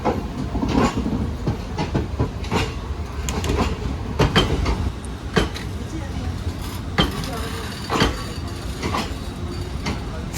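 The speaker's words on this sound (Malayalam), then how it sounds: "ഫൈനലി കൊച്ചുവേളി മുതൽ കോയമ്പത്തൂർ വരെ train number 12512 Raptisagar super fast എക്സ്പ്രസ്സിലുള്ള നമ്മുടെ ട്രെയിൻ ജേർണി ദേ ഇവിടെ ആരംഭിച്ചിട്ടുണ്ട്" The Raptisagar Superfast Express, train 12512 from Kochuveli to Coimbatore, rolls along with a rhythmic clickety-clack of wheels over rail joints and a steady rumble inside the coach. Faint voices mingle in the background.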